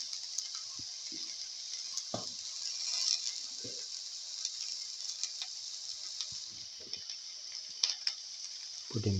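A yogurt, coconut and chili paste being sautéed in a pan gives a steady soft sizzle, with scattered stirring clinks and scrapes close by.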